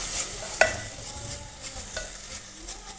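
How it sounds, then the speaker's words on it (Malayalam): Chopped tomatoes being stirred into a prawn masala for Kerala paal konju roast, a spoon scraping the pan softly with one sharper clink early on and a faint sizzle underneath. "തക്കാളിയും ചേർത്ത് നന്നായി ഒന്ന് മിക്സ് ചെയ്യാം"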